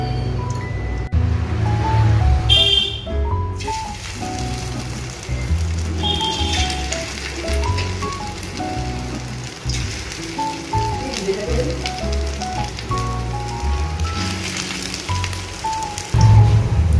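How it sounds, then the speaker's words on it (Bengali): Marinated chicken pieces frying in hot white oil for chilli chicken: a steady, loud, close sizzle and crackle that fills the whole stretch, with faint background sounds but no clear talking. "এখানে তেলের মধ্যে দিয়ে দিলাম ম্যারিনেট করা চিকেনগুলো"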